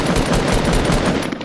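Rapid bursts of gunfire from a shooter video game, loud and dense, with shots rattling continuously for the whole stretch.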